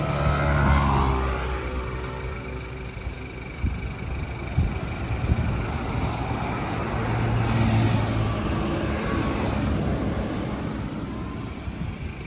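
Vehicles rumble and whoosh past on a highway in steady traffic with a constant broadband drone, and a few louder passes swell and fade with no talk over them.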